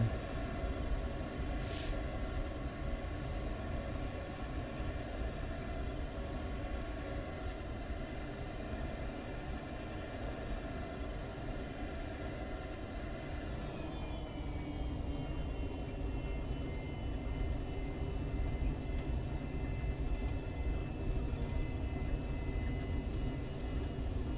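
F-4J (UK) Phantom II jet engine in a flight simulator, a continuous, even roar with a steady tonal whine that shifts slightly partway through, heard alone with no talk.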